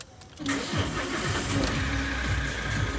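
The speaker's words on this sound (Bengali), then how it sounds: "এখান দিয়ে চাবিটা দিয়ে স্টার্ট দেবে" A police car's engine cranks with a key and catches at about half a second, then settles into a steady, close idle with no talking.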